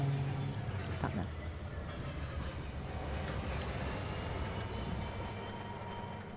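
A train running in the video game Rolling Line, heard as a steady low rumble and rolling drone that continues throughout at moderate level with no clear talking.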